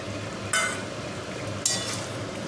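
Potatoes stirred into half-braised meat in a pan, a steady sizzle with two sharp scraping bursts of the utensil against the pan, close up.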